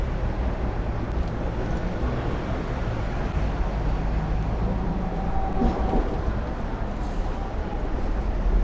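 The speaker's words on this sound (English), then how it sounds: "So I'm on a double-decker tram. You're about to see one come by the other direction." Riding aboard a Hong Kong double-decker tram: a steady, loud rumble of wheels and motor runs throughout with faint squeaks and clicks, as another tram passes in the opposite direction.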